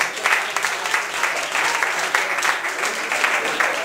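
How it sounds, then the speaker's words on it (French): Audience at a hypnosis magic club show applauds steadily, a dense continuous wash of many hands clapping close by, holding at an even level for several seconds. "On peut les applaudir toutes les 3,"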